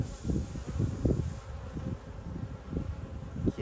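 Honey bees hum in a steady low drone around an opened hive during an inspection of capped worker comb, close and continuous with small swells in loudness.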